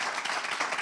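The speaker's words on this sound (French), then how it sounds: "On peut applaudir pour bienvenue" A short burst of dense applause from a crowd at a French challenge-style competition show, steady clapping without any pause.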